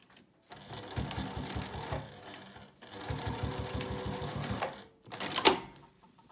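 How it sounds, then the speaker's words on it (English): A sewing machine stitching binding onto a quilt-as-you-go patchwork coaster, running in two steady rapid bursts with a brief pause, then a short final burst, close and clear with no talk. "start stitching here, but this time only stitch about 1 inch into your binding"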